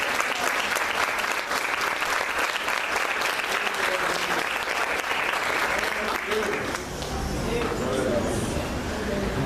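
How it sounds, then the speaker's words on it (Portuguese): A church congregation at a family worship service with communion applauds loudly and steadily, dense sustained clapping filling the room with no gaps and a slight dip in intensity toward the end. "aplauda o Senhor pela vida dele"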